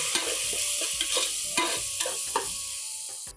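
Ginger, garlic and green chili paste sautés in a pan while being stirred, a close, constant sizzle broken by repeated scraping and tapping strokes of the spoon.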